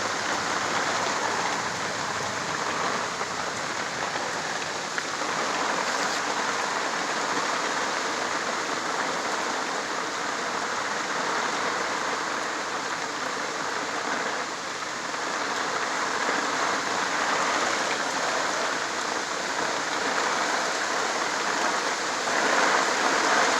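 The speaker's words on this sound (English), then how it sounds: "It's raining hard out there" Heavy rain pours down on a survival shack in a steady, dense hiss, unbroken throughout, with no voices over it.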